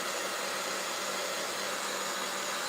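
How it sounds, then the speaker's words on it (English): A heat gun blows steadily over freshly applied paint on an upcycled piece, a constant airy whoosh of hot air that holds at an even, moderate level throughout with no talking. "let's hit this with the heat gun so that we can sit it down"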